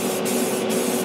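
A spray paint can hisses continuously while coating a large scale model Buick body, a loud, close, steady spray with no speech.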